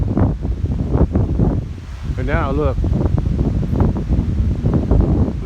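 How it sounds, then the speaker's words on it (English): Wind gusts outdoors by a rural pond on a cool day after heavy rain, a rough, buffeting rush across the microphone that runs throughout while someone talks over it. "Windy and cooler today."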